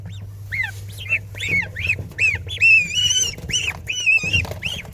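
Geese honk repeatedly nearby, a steady run of nasal calls overlapping one another, with a low hum beneath.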